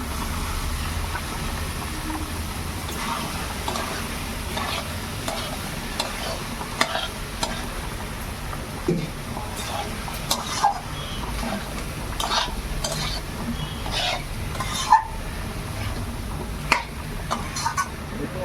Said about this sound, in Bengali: এবার আমার মশলা কষানোটা হয়ে গেছে, আমি এবার রাজমাগুলো দিয়ে দেবো।